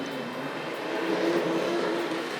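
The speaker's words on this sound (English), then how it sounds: "I'm just going to get this diesel rail car around to the other side." A steady mechanical whirring hum of a Tri-ang Railways R.157 model diesel railcar with knurled wheels running along track, constant and fairly close with a slight rise in pitch.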